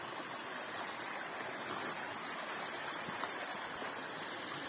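A taiga river flowing over stones at a crossing point, a steady close rushing and burbling of water that fills the whole clip without pause.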